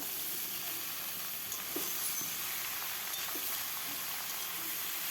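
Mushrooms, washed in hot water, go into a pan of fried potatoes, producing a soft, even hiss of frying that runs throughout at fairly low volume, with a few faint stirring taps and no talking.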